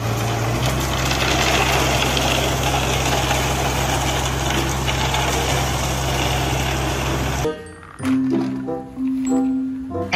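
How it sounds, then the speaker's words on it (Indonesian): A cement mixer truck engine runs at a steady, loud idle-like drone for about seven seconds, then cuts off abruptly, leaving quieter tonal sounds and faint background noise. "Mobil truk molen."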